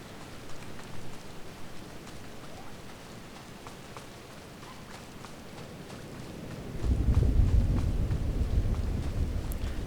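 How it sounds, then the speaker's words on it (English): Steady rain falls in Star Wars: The Old Republic, heard as a continuous hiss with faint scattered ticks, swelling to a louder, fuller downpour near the end. No voices are heard. "It's funny, I hear rain,"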